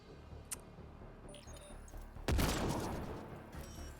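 Gunshot blasts from the video game Mass Effect Andromeda: a brief crack early on, then a loud burst of fire with a long echoing tail, over quiet game ambience.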